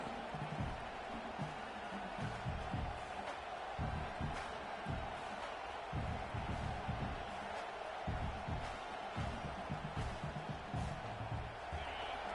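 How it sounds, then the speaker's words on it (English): A large crowd roars continuously throughout a Texas A&M versus UCLA football game, a dense wash of cheering and shouting with occasional louder swells, heard from within the stands. "Listen to the crowd energy here in the early going."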